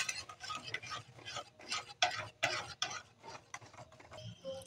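A simmering dish in a pot is stirred continuously, with a spoon scraping and clinking against the pot in irregular bursts, close by and fairly quiet, with no talking.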